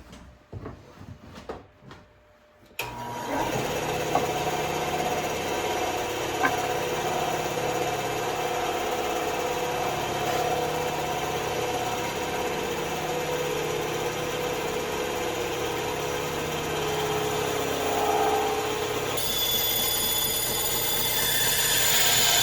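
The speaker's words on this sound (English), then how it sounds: "So the best method I've found right now is using the bandsaw." A bandsaw runs steadily while slicing through a wooden block for a pinewood derby car, a continuous loud mechanical whine and hum after a few quiet handling knocks at the start, with no talking.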